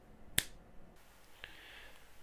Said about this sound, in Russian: будет сейчас щелчок пальцев